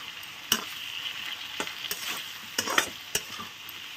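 Onions fry with bay leaf and spices in a pan in a village kitchen, a steady sizzle broken by intermittent scrapes and clicks of a stirring spoon, with no talking.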